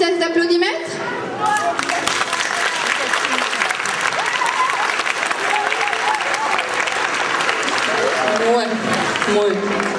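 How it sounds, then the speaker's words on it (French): An audience at a children's show claps hard for an applause-meter test, a thick sustained roar of hands with cheers and chatter woven in, beginning after a brief voice and running loud to the end. "Un petit test d'applaudimètre?"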